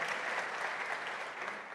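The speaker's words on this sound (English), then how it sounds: "Yeah, thank you for the applause." Brief, full applause from a tech conference audience at an opening session, a dense steady wash of clapping that holds level and eases slightly at the end, with no voices over it.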